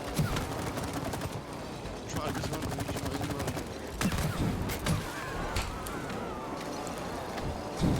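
Bursts of rapid gunfire from the co-op video game It Takes Two rattle in quick repeated volleys, loud and close, with players talking over the shooting.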